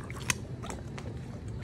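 A pet crunching a piece of carrot up close, a few crisp bites and chewing crunches with one sharp snap near the start, fairly quiet in a calm room.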